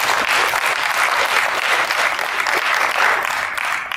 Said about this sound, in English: Please, let's give these banks a round of applause.